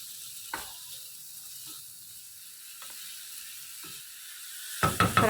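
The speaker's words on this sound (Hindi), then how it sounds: "सेब डालकर लो फ्लेम पर 3 से 4 मिनट फ्राई करेंगे।" Apple pieces frying in a teaspoon of oil in a pan over a low flame, giving a steady soft sizzle with a few light clicks and a louder burst of stirring and scraping near the end.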